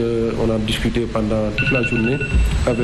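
A telephone rings during a French radio interview, a steady electronic ring tone sounding under someone speaking.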